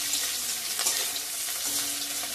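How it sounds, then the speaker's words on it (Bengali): Onions frying in oil with paanch phoron five-spice, a dense, steady sizzle with crackling bursts, close and fairly loud throughout, with no voices. "পেঁয়াজটা আমার ভাজা ভাজা হয়ে গেছে।"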